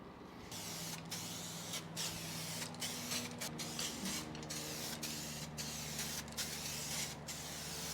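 A spray nozzle sprays paint onto wheels in a home garage, with a steady hiss running throughout and short bursts cutting in and out over a constant hum.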